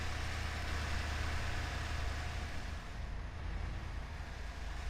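An off-road truck engine in a driving video game hums at a steady low drone with no clear rise or fall in revs, fairly quiet and unbroken, with no talking.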